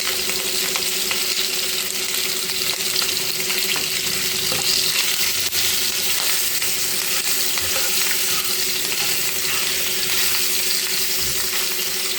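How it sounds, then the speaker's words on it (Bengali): Eggs fry in a pan with a steady, close sizzle and crackle that holds through the whole stretch, stirred now and then, with no talking. "বানানোর জন্য আমি প্রথমে ডিমগুলো ভাজি করে নেব।"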